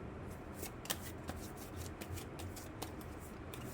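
Tarot cards are shuffled and drawn by hand, a soft, close riffling with light flicks and taps scattered through. The sound is quiet and there is no speech.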